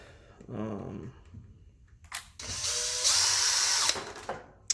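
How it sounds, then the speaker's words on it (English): A power drill whirs in short bursts, high-pitched and close, unscrewing shock parts from a Traxxas Slash RC car, with a few clicks between runs. "Been using a drill for a while to take these cars apart"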